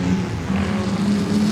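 Vintage racing cars in the Madgwick Cup at Goodwood Revival run nose to tail past the trackside, a droning engine note with a steady low hum that holds close and loud through the short moment.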